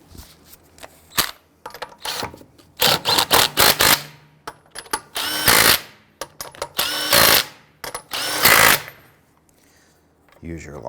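Impact wrench spinning lug nuts onto a 2008-2013 Infiniti G37 wheel during a shock absorber replacement, heard as a series of loud, short rattling bursts separated by brief pauses.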